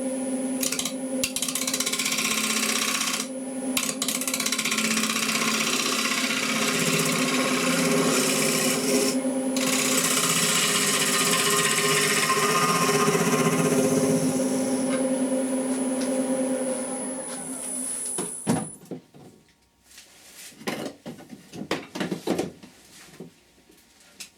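Wood lathe turning a sycamore wing bowl, a sustained rasping tool-on-wood hum with a steady high whine, broken by brief gaps, then stopping into scattered handling knocks and clatter.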